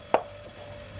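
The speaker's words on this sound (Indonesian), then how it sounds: "Kita belah menjadi 2 untuk bawang merah dan bawang putihnya" A knife makes one quick chop through shallots and garlic, halving them on a cutting board. The single short, close knock is followed by quiet, and no one speaks.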